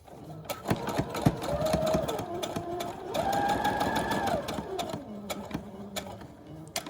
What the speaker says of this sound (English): And then we're going to do a back stitch to kind of close the loop there.